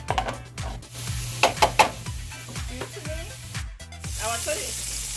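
Sausage and peppers sizzle steadily in a hot pan as they are stirred together, with a few sharp clinks of the utensil against the pan and low background hum throughout.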